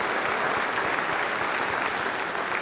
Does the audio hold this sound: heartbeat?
no